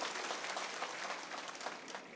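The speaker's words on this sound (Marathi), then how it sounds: "ताईंचं सुद्धा आपण सर्वांनी टाळ्या वाजवून या ठिकाणी स्वागत केलं पाहिजे" An audience at a political gathering claps to welcome a woman guest, giving a faint, dense, continuous patter of many hands that sounds distant.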